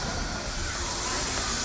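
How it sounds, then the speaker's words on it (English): The Walt Disney World Railroad steam train at Magic Kingdom lets out a loud, continuous hiss of steam, close and steady from start to finish. "Today we're going to be taking a ride on the Walt Disney World Railroad at the Magic Kingdom."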